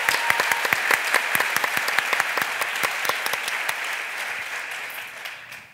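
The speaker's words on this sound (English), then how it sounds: "let's applaud the 10th anniversary with a big round of cheering for Soren" A large conference audience applauds and cheers for Soren at a tenth-anniversary event, a loud, dense burst of clapping that holds steady and then tapers off near the end.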